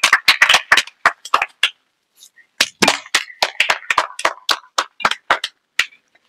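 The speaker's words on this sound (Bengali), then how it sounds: "সবাই মিলে একটা করতালিতে স্বাগতম করবেন।" Scattered, uneven hand claps from a small audience welcoming a speaker onto the stage at a comic election-speech event, sharp and close with brief gaps.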